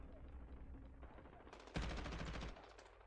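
Enemy automatic gunfire in Call of Duty multiplayer, a dense, loud burst of rapid shots lasting under a second over steady game background noise.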